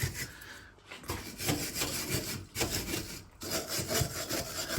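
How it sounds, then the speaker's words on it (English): Rust being scraped off a Ford Focus ST225 rear subframe, with harsh, gritty, continuous rasping strokes close up and brief pauses between passes, no speech. "I will give this a scrape and a clean"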